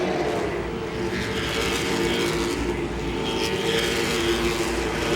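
Late model stock cars racing at Langley Speedway, a continuous roar of several engines at a distance blending into a dense, steady drone with faint surges.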